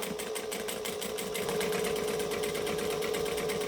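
A sewing machine runs in a steady, fast, even whir while top stitching with a lengthened stitch, a close continuous mechanical buzz with no talk.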